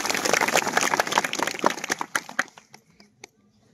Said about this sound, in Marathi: स्वामीजींसाठी जोरदार टाळ्या झाल्या पाहिजे.